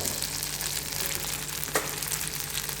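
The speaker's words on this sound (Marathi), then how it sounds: "हळूहळू हळूहळू हळूहळू असं गोलाकारात फिरवीत तो ह्याच्यामध्ये मिक्स करायचं आणि भाजून घ्यायची बरं का परत" Masala for a cashew and pea curry roasts in a pan, a dense continuous sizzle with soft circular stirring and one brief scrape in the middle.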